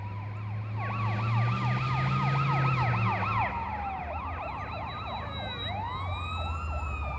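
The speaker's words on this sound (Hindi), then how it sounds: "सायरन वाली गाड़ी।" An emergency vehicle siren wails steadily in a repeating rising-and-falling pattern, fairly close, over low traffic rumble, with a second siren tone joining near the end.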